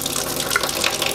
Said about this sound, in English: Now we're just going to rinse our mushrooms like this.